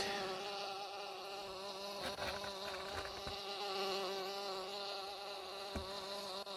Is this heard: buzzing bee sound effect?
yes